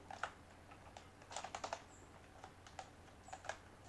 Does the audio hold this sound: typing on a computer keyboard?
yes